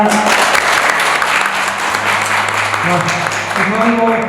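Audience applause at a community education gathering, dense continuous clapping from a crowd filling the whole moment, loud and close, with speech audible beneath it.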